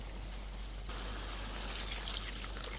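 Water pours steadily into a pot of rice for mushroom and baby potato biryani, a soft continuous rushing trickle, faint and close with no talking.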